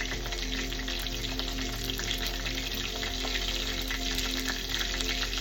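Chicken feet frying crisp in oil, a continuous moderate crackling sizzle with a low steady hum underneath, no talk.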